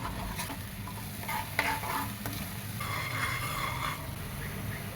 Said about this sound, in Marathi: त्यानंतर कढईमध्ये कांदा आणि कढीपत्ता टाकून चांगलं परतून घेऊयात